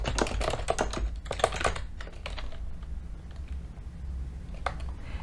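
Keys clatter on a computer keyboard in quick close bursts of typing, then pause and go quieter before a short final flurry of keystrokes; no one speaks.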